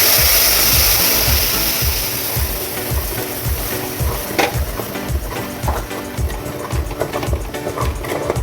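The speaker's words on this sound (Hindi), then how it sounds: "अब हाई फ्लेम पर चलाते हुए पकाते रहेंगे" Sheer khurma being cooked: vermicelli is stirred in boiled milk in a pan over a high flame, with a steady rhythmic scraping pulse of the spoon over a constant bubbling hiss.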